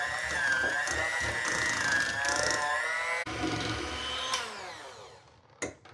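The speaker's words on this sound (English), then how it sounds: "we're gonna take our beater and mix this up" An electric hand beater whirs through room-temperature cream cheese for cheesecake bars, its motor whine wavering in pitch, then winding down and stopping with a final clatter.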